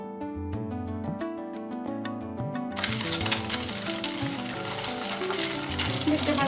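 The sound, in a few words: frying semai vermicelli fritters in a pan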